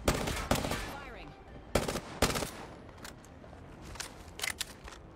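Gunfire rattles in the video game Apex Legends in short bursts and sharp single shots, loud at first and then thinning to scattered distant pops, with a faint voice in the background.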